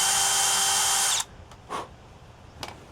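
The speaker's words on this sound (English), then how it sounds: "That's a good thing or a bad thing when you're drilling a hole in your roof." A power drill bores a hole in an RV roof, a loud, steady whine that stops abruptly after about a second, followed by a few faint knocks and brief scraping noises.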